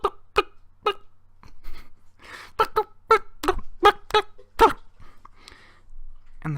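A human voice imitates a flock of chickens excited to be fed. It makes a rapid series of short, clucking and squawking bursts, close and alone, with brief pauses between them.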